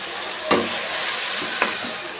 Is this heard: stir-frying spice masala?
yes